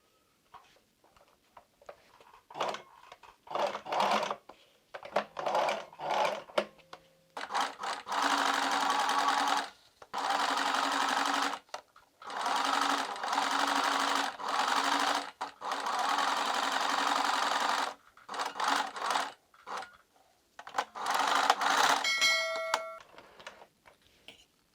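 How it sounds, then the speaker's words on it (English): A sewing machine runs zigzag stitches on corset bra cups in repeated bursts of steady mechanical whirring lasting a few seconds each, separated by short pauses, close up and loud with no talking. "We are going to start with the bottom pieces and sew them with a zigzag stitch around like so."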